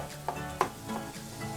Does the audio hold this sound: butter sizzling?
yes